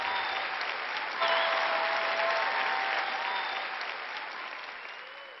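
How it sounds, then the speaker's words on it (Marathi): An audience at a Christian talk on true greatness breaks into loud, dense applause that stays strong and then tapers off slightly toward the end, with no speech over it. "यापेक्षा जोराने टाळ्या वाजवा"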